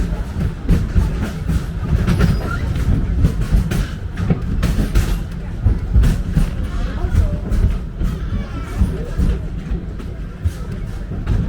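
A theme park train at Animal Kingdom rumbles along steadily with rhythmic clacking, loud and close, while a murmur of people carries underneath.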